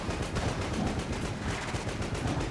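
Continuous rapid-fire explosions and gunfire from the Enter the Gungeon video game in minefield mode, a dense, unbroken rattling barrage with no pauses.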